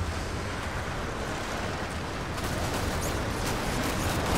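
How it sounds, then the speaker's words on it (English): Loud, continuous wind roars and gusts in a rough, noisy wash from the video game Tomb Raider, growing harsher partway through, with no talking. "Why is it so windy?"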